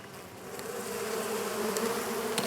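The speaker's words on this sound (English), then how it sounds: "I'm going to release these bees" Honey bees pour out of a swarm trap at Gilford Lake in a dense, steady buzzing hum that swells slightly as the insects take flight close by.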